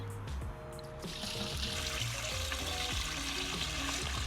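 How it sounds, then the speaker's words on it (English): Muddy water trickles and splashes steadily as it is poured slowly through a chinois fine strainer, a soft continuous hiss throughout. "we're gonna stir this up and slowly pour into the chinois"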